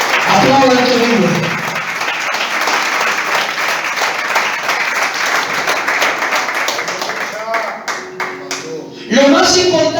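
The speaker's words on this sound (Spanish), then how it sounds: "Aplaudan que vive." A church congregation bursts into loud, sustained applause that fills most of the stretch, with a voice speaking just before it swells and again as it fades near the end.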